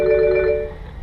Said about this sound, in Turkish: Klasik akustik telefon çalıyor yine.